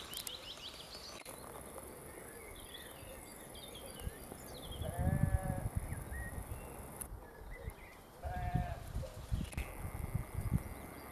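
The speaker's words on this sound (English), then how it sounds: "You can possibly hear the sheep on the hill behind the cottage." Sheep bleat on a hillside behind a countryside cottage in spring, a few faint distant calls over wind and outdoor hiss, with birdsong and footsteps nearby.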